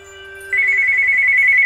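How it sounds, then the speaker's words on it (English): An 8-bit style phone ringtone from the Kirby's Epic Yarn video game plays loud and steady, a continuous electronic trill that starts abruptly and carries on over a quiet background hum. "And I have to have a phone ringing."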